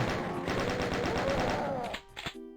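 Rapid gunfire rattles in the Doom II video game as a dense burst of repeated shots that lasts nearly two seconds before it breaks off into a few scattered, fainter blasts.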